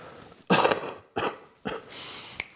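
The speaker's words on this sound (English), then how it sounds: "I have a bad cough" Three harsh, chesty coughs from a person with a bad cough, loud and close, spaced about a second apart with short gaps of quiet between them.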